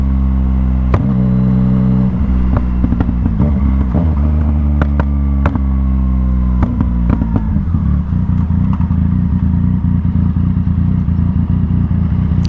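A motorcycle with a mechanical clutch runs close and loud, its engine droning steadily while throttle blips and gear changes mark the first half, followed by continuous rough engine noise with scattered clatter.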